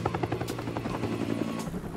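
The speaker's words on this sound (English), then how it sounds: "The helicopter raced 20 yards off the ground to avoid enemy radar." A military helicopter flies low over flat ground with a fast, rhythmic rotor chop and a buzzing engine. The sound stays loud and steady throughout, with no speech.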